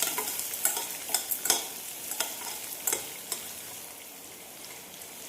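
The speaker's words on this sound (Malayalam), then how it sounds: "നന്നായി ഒന്ന് ഇളക്കി കൊടുക്കാം." Vegetables for semiya upma, with chopped beans and dried red chillies, stirred in a pan over a low flame: a steady soft sizzle broken by a run of sharp spatula scrapes and taps against the pan, close and without talk.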